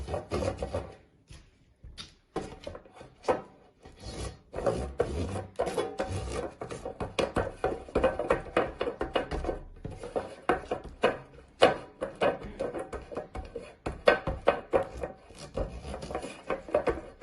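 Light brushing and rubbing inside a metal tart pan as butter is spread and flour dusted for a strawberry tart, soft scraping strokes and occasional taps, close and fairly quiet with no talk.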